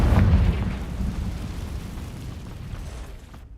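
A Confringo spell explosion in a Harry Potter video game on hard mode: one loud, low blast at the start that rumbles and fades away over a few seconds.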